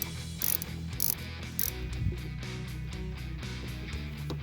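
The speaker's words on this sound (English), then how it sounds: "Now we've got to disconnect the power. So for this guy, just a 10mm socket." Ratchet fitted with a 10mm socket loosens a car battery terminal on a Toyota, a series of quick close clicking bursts repeating in a steady rhythm over faint background noise.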